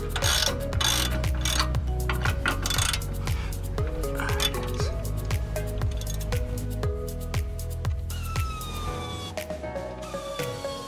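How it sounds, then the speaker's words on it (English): Rapid, loud ratchet clicking as a hand ratchet spins out 17 mm subframe bolts on a 2006 Honda Civic 1.8L, a steady metallic ratcheting run close up that lasts throughout with brief pauses. "You can ratchet them out."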